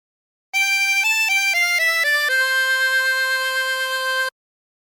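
A harmonica plays a phrase of La Cucaracha: several quick stepped notes, then a long held final note, clean and close with no voices.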